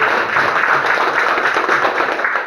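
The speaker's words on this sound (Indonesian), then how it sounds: "tepuk tangan dong" An audience gives steady, dense applause at a social forestry community event, many hands clapping together loudly throughout.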